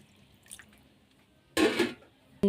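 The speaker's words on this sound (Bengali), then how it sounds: "এবার এখানে আমি অল্প করে জল দেব" A little water is poured into a pan of dried fish being cooked: a brief, close splash of liquid after a faint earlier drip, in an otherwise quiet kitchen.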